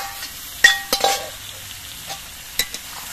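Fried potatoes and ridge gourd sautéed in spice paste that has released its oil give a low, quiet sizzle, punctuated by a few close spoon scrapes and knocks against the pan.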